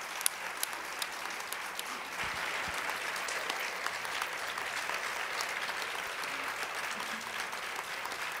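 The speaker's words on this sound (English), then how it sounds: "You can clap for yourself." Steady applause from an audience at an American Legion Auxiliary session, a dense continuous patter of many hands filling the whole stretch at moderate volume with no talk over it.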